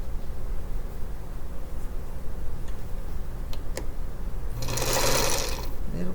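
A home sewing machine stitching a quarter-inch seam through quilt fabric, a short steady whirring run late in the clip over a quiet room background with faint ticking.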